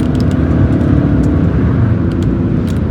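A Skoda Superb L&K 2.0 TDI DSG 4x4 (2017/18) is heard from inside, its engine drone loud and steady under strong road and tyre noise as it pulls hard through a 0-100 acceleration run.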